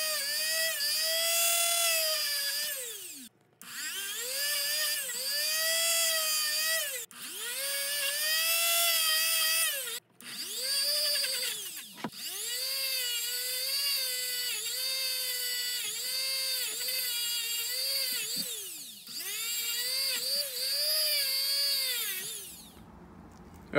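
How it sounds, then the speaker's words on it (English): A Dremel rotary tool fitted with a small wire brush scrubs the connector ends of a Sea-Doo XP ignition system, its high whine running in about seven long bursts that sag in pitch under load between brief stops. "I'm going to take this Dremel tool here, and with a little wire brush"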